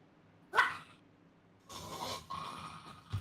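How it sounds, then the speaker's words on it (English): A dog barks sharply once, then lets out a longer rough growl and more barking, loud and close, with quiet gaps between the outbursts. "I wasn't sure if that was you or the dog, but I'm glad to know that it's the dog now."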